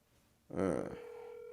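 A phone dialing tone sounds close up as an outgoing call is placed, a short burst of tones that settles into one steady held tone.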